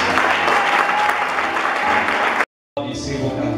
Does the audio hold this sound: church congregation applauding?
yes